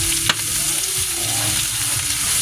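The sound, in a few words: frying and stirring pork humba in oil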